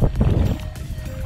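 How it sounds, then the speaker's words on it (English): Gusty wind buffets the microphone outdoors, a low rumbling roar that stays loud throughout, with faint water movement underneath. "Suddenly really windy"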